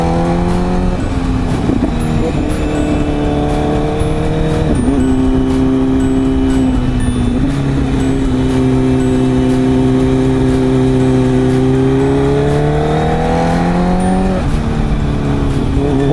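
A Honda CBR 1000cc motorcycle's engine roars loud and steady along a winding mountain road, its pitch climbing and dropping through repeated revs and gear changes without pause.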